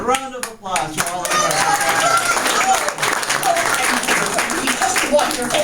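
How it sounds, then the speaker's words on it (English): An audience at the Enchanted Tales with Belle show gives a round of applause, lively clapping building quickly and carrying on strongly, with excited voices and cheers mixed in. "All right, a round of applause for all of us."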